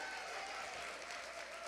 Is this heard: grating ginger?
no